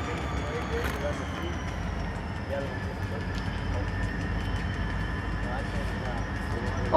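A CN freight train rumbles past at a distance in Comber, Ontario, with a steady low roar and faint rail clatter, while faint voices murmur in the background.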